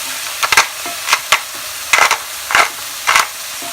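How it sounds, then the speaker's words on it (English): A utensil stirs vegan minestrone soup in a pot while pepper is added, giving a rhythmic series of short scraping strokes about every half second, close and fairly clear, with no talking. "Okay, keep on stirring. Yep. I'm adding some pepper."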